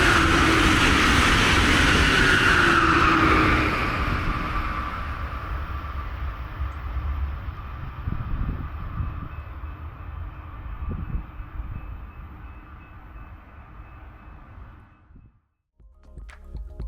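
A Brightline passenger train roars loudly at first, then fades into a receding rumble with faint clattering, ending in a brief quiet gap.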